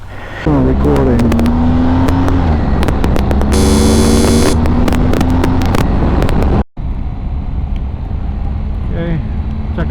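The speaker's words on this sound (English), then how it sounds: "Check out my quick shifter." BMW R 1250 GSA motorcycle engine running and climbing through gears with a quick shifter, heard through helmet audio, with steady engine tones rising and dropping at shifts, a brief cut partway, and wind noise afterward.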